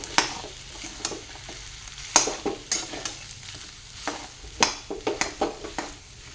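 A potato and cauliflower paratha filling is stirred in a pan with a spoon, sending repeated scraping and clattering strokes over a soft background sizzle, close and fairly loud, with no talking.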